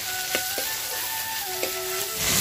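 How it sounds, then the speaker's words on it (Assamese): Pork and tomatoes frying in a pan give a continuous close sizzle, broken by a few short scraping knocks of a spoon as the mix is stirred, with no voices. "লৰাই দিম"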